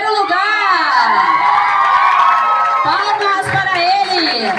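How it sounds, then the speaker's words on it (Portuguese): A crowd of children shouting and cheering at a Black Consciousness Day school event, loud excited whoops and high voices overlapping continuously, close and lively. "palmas para eles"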